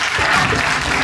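Steady applause from an audience at a music and poetry festival, a dense, even patter of clapping hands filling the whole second at moderate loudness with no voices over it.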